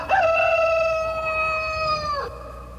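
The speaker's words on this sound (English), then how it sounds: "We all heard the rooster crowing, as Jesus had said." A single rooster crows close by, one long, loud cock-a-doodle-doo with a rising start and a held, slightly wavering tone that cuts off abruptly, no talk over it.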